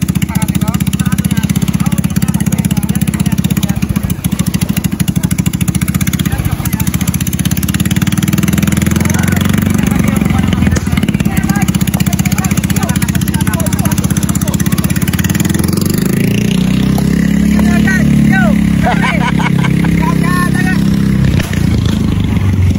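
A boat engine with a misfire runs loudly and continuously throughout, its throb rough and unsteady. Voices speak over it.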